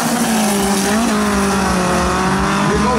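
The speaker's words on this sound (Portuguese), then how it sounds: "É a galera pelo Campeonato Gaúcho de Arrancada, 200 metros, o Deltan Taete dos Santos." A turbocharged VW Gol drag car launching at a 200-metre drag racing event in southern Brazil, a loud, close, sustained high-revving engine roar with rising pitch and no break for the whole stretch.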